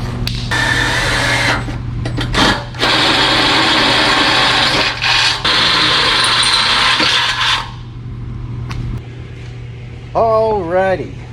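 A loud power drill whines steadily for several seconds with brief pauses while drilling holes, then cuts off, leaving quieter handling noise and a short voice at the end.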